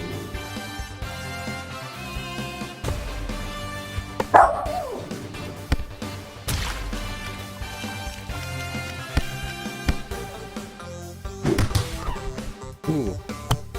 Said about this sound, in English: Because my dog goes crazy.